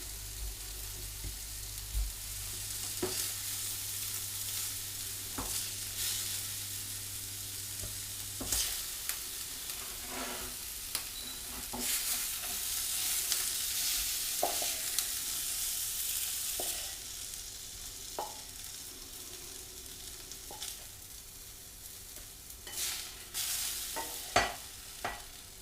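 Meatballs browning in a hot frying pan, a continuous close sizzle with scattered pops and the odd utensil knock, a low hum in the first third, no voices.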